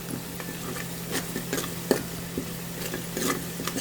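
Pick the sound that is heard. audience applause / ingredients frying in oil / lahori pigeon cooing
ingredients frying in oil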